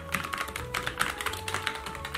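Rapid, even clicking from a thin computer keyboard with an aluminum base, keys tapped in a quick steady stream, close and fairly loud.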